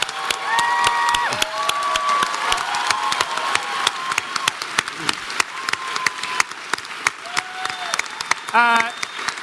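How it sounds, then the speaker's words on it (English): An audience applauds and cheers at a talk show taping with Conan O'Brien, a sustained crowd roar of dense clapping with brief voices over it. "I like applause."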